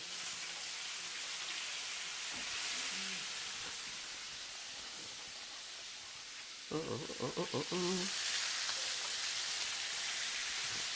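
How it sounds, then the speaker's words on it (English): Onions sizzle steadily in a hot pan, a loud bright hiss throughout, with a brief burst of speech partway through. "I'm going to go in with my onions"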